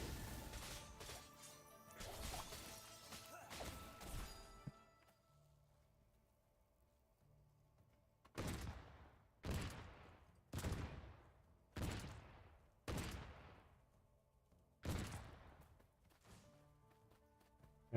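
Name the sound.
cannon firing in the video game Farever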